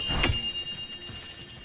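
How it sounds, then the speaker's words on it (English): Chimes ring in the video game God of War Ragnarok, one bright metallic strike early on whose tones linger and fade under faint background sound. "Good to see the chimes working as intended."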